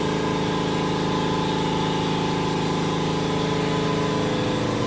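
A garage air compressor chugs steadily and loudly while building pressure, giving off a continuous pulsing motor drone with a dense mechanical rattle and no pauses.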